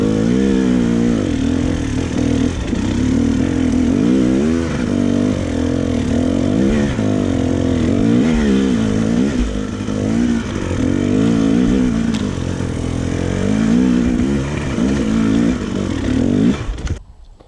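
A dirt bike engine revs loud and close for the whole stretch, its pitch rising and falling in repeated throttle blips without pause.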